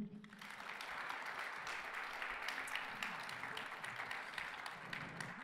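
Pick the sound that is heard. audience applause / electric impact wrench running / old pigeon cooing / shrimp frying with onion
audience applause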